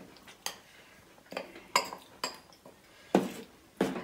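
A spoon or ladle clinks against a metal pot while powder is stirred into boiling water for a Kottayam-style kozhi pidi dish, several sharp scraping knocks spaced irregularly, close and alone.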